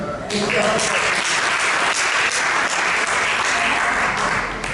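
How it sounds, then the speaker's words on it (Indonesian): A church congregation claps together during a sermon, a loud, continuous wash of many hands that holds steady throughout, with talk faintly underneath. "ingin mau lihat sekalian tepuk tangan"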